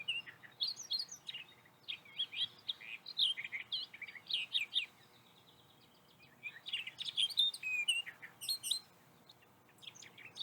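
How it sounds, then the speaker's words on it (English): Birdsong from what may be a goldfinch: bursts of bright chirps and twittering trills in phrases, with a short pause near the middle before the song resumes, fairly close and clear with no talking. "I believe goldfinch."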